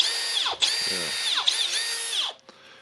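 A Makita XPH14 cordless hammer drill, just repaired with a new transmission, runs in loud sustained bursts with a rising whine, stopping briefly between runs before cutting off, and a voice speaks once.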